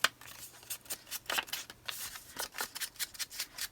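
Scissors snip through paper in a quick series of short, crisp cuts during junk-journal crafting, close and fairly quiet with no talking.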